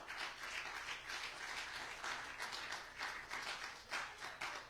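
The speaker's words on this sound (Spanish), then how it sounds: "¿Cuándo le pueden dar un aplauso al Señor?" Church congregation applauding during a Spanish-language sermon, a sustained, fairly quiet wash of many hands clapping with slight swells, no voices over it.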